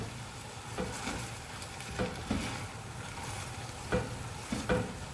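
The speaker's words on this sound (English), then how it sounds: "500 grams of passata. Give it a good mix up." A spoon stirs 500 grams of passata into a spaghetti bolognese sauce in a pan, making soft wet scrapes with a few sharper knocks against the pot over a low simmering hiss.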